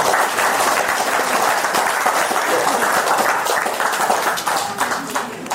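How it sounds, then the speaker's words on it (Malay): Audience applause at a Bidayuh ethnic engagement ceremony, a dense, steady burst of many hands clapping that holds loud for about five seconds before thinning slightly at the end. "Bagi tepukan dulu."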